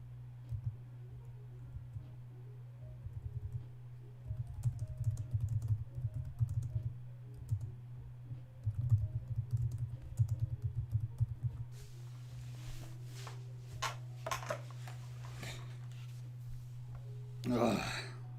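Typing on a computer keyboard: bursts of quick, irregular clicks come and go over a steady low electrical hum, with a louder clatter near the end.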